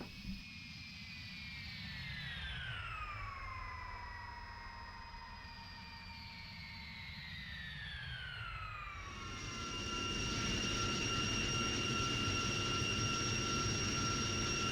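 Jet fighters flying in formation in the Strike Fighters 2 flight simulator, a continuous whining jet engine drone with pitch sliding down then settling into a steady high tone, growing slightly louder.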